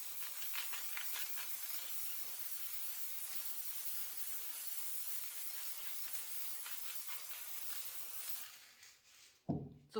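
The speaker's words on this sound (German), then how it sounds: "ich habe jetzt das einfach drauf gesprüht" Gold spray paint hisses from an aerosol can onto a canvas in one long, steady, close spray that lasts about eight seconds, followed by a short clatter as it stops.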